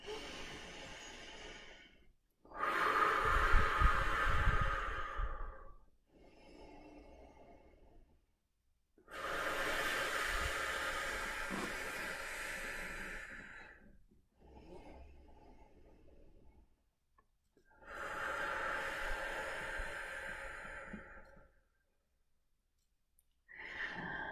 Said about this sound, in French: Prenez trois grandes respirations à votre aise.